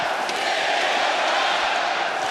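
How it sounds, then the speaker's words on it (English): Crowd at a world light heavyweight boxing title fight roaring, a dense steady wash of cheering and shouting from a large arena audience, loud and continuous throughout. "a roar from the crowd"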